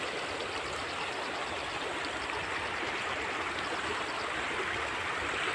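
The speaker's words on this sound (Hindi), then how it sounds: "पानी देखो कि यहाँ कैसे आ रहा है" Steady rushing floodwater during heavy rain in Himachal Pradesh, a broad continuous roar of a fast-flowing stream, constant and fairly close, with no voices.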